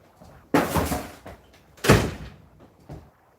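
A door is pushed shut with a loud thud, followed by a second heavier slam-like knock and a faint bump, heard indoors with no talking.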